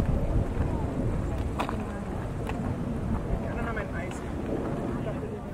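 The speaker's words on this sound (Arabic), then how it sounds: "رغم صفاوة الطقس إلا أن الهواء كان عاصف جدا" Strong wind buffets the microphone in a constant low roar in Germany's Black Forest, with faint scattered clicks and knocks underneath.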